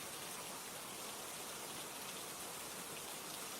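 Steady rain falls in an even, dense hiss of countless drops, unbroken and uniform throughout, with no other sounds.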